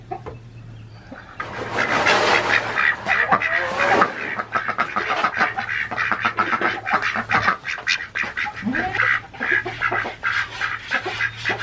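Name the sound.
ducks quacking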